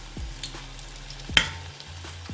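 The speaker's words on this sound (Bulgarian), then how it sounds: "Изпържването им става изключително бързо, тъй като са много тънки." Thin zucchini slices fry in hot oil in a pot, a steady low sizzle broken by a few sharp pops and bubbling bursts, close and without talk.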